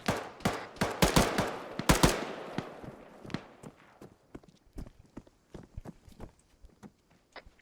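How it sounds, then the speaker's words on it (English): Heavy gunfire in ARMA 3: a dense burst of sharp shots for the first two seconds, then scattered single reports and short volleys at varying distances, fading to sparser cracks. "I'm taking heavy fire."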